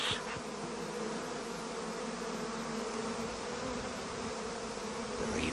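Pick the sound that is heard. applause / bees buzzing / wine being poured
bees buzzing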